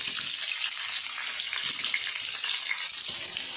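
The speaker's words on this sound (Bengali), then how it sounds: "আমি ভালো করে আলুটা ভেজে নেব।" Potatoes frying in oil in a village kitchen for an egg and potato curry, a dense, steady hiss of sizzling that holds evenly throughout.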